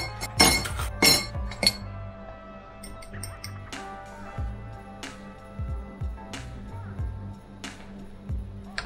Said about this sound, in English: Next up, I'm gonna put some ice cube in my glass.